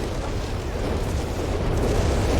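Whiz-Bang rocket barrage explosions in Company of Heroes 3 merge into a dense, continuous low rumble of overlapping booms that stays loud and close throughout.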